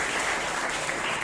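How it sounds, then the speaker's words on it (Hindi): A crowd applauds at a felicitation ceremony in Baraigram honoring a student who passed the NDA exam, with dense, steady clapping that stays loud throughout and no voices on top. "इनके लिए एक बार ताली बजा करके"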